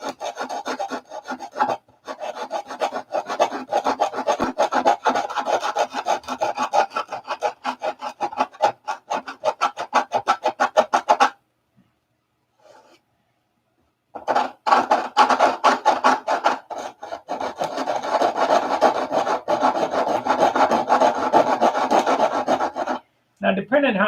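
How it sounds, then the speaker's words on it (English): A round sanding file rasps against the inside of a wooden piece in quick, steady back-and-forth strokes. The scraping runs continuously, stops for about three seconds, then resumes before a brief final pause. "I'm going to take a round sanding file and sand the inside first."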